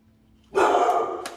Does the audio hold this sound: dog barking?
yes